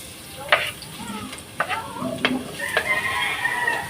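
Garlic sautéing in a hot pan for a malunggay dish, a steady close sizzle with a few sharp clinks of stirring, while birds, including a crowing rooster, call faintly in the background.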